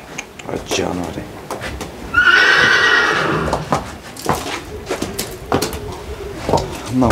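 A mare lets out a loud, drawn-out neigh close by, amid hoof clip-clops and shuffling, with people talking around it before and after the whinny.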